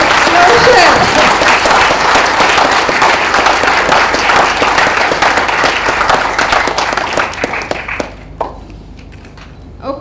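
Loud applause from a forum audience in Asia, dense continuous clapping that thins out into scattered claps and dies away near the end.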